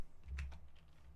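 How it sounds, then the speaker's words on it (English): A short burst of computer keyboard typing, a few close key presses in quick succession over a low background hum, no voice. "if we type"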